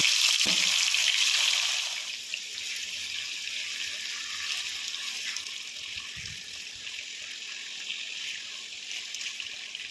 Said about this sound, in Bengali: কড়াইতে সর্ষের তেল গরম হতে দিলাম তেলটা ভালো মতো গরম করে নিয়ে এর মধ্যে ম্যারিনেশন করা চিকেনগুলোকে এক এক করে ভেজে নিচ্ছি